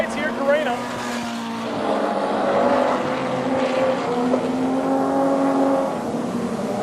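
Nostalgia sedan race cars roar down the long straight at Carina Speedway, engines droning loud and sustained as they pass, with a commentator talking over the noise.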